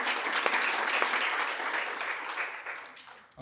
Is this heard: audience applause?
yes